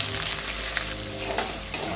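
Onion, dry red chillies and curry leaves fry in a pan for gongura chutney, giving a steady close crackling sizzle with a few louder pops and faint stirring, with no voices.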